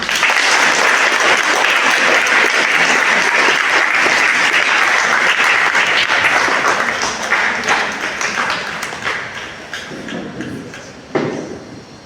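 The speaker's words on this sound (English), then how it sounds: "A big round of applause for me" Loud audience applause after a personality development and life skills training talk, a dense burst of crowd clapping that gradually thins into scattered claps and faint murmuring near the end.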